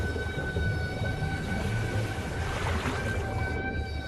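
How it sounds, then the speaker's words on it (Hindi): Long, wavering tonal calls of a humpback whale drift over a constant underwater rumble, sustained and fairly faint throughout. "जैसे कि हम्पबैक व्हेल की गाने की धुन जैसी लहकती ये आवाज"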